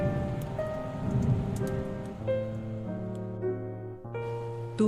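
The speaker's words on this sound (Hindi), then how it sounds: "एक बड़ा तूफान घेर लिया।" Cartoon storm effect of heavy rain with rumbling thunder: a broad hiss of rain fills the first half, then sustained background music takes over and the storm fades beneath it.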